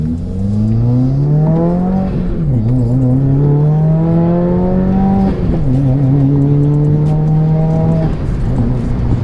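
A Subaru WRX engine revs hard under full throttle, pitch climbing steadily through several gear shifts, loud and close.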